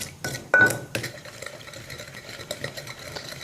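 A wasabi dipping sauce with fish sauce and dissolved sugar being stirred in a bowl, with several sharp utensil clinks against the dish, one louder scrape early on, then softer repeated taps and stirring close by.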